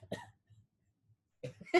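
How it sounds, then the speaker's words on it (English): Coughs into cupped hands come in two short bursts, one at the start and a double cough near the end, close and muffled, with faint breathing in the quiet gap between. "since I have coughed on my hands again"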